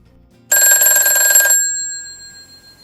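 A telephone rings once, a loud electronic bell tone that lasts about a second and then decays into a fading ring, with no talking around it.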